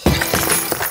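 A block of ice cracks and shatters as it is broken in half, a dense burst of crunching, splintering crackle filling the moment, loud and close.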